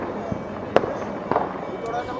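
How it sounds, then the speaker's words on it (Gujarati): Firecrackers bursting during a Makar Sankranti celebration, a few sharp cracks scattered over steady crowd noise and voices. "આમ જો અંદા ફટાકડા ફોડે"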